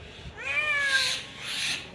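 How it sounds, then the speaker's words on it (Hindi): A cat arriving for food in a village gives one drawn-out, wavering meow, close and clear over light background noise. "और यहाँ बिल्ली भी आ गई है खाने के लिए"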